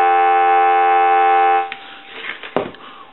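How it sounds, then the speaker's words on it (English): Steady payphone dial tone from a single slot payphone conversion, a continuous multi-harmonic tone held alone for about 1.6 seconds before cutting to quiet handling clicks and a brief thump. "Want to give you some dial tone."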